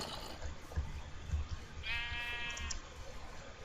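A sheep in the video game Minecraft lets out one clear, wavering bleat in the middle, over low game noise and a few soft thuds.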